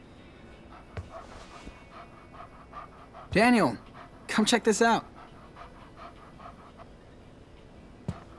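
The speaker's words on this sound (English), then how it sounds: "Oh, there's the puppy." Rhythmic panting of a puppy in the video game Life is Strange 2, two short close bursts of quick breathing over quiet ambience, with a brief spoken line from a person earlier in the clip.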